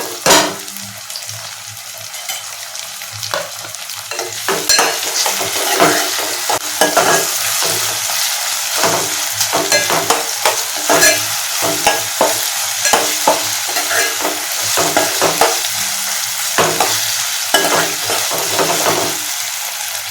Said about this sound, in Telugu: ఇప్పుడు టమాటాలు వేసేసుకుందాం